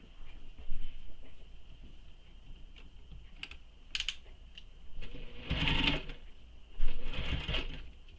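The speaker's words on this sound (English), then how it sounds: "you'll want to go ahead and top stitch this entire strap with the seam allowance given in the pattern" A sewing machine top stitches along a fabric strap, running in two short bursts over a steady faint whine and light handling noises, with no talking.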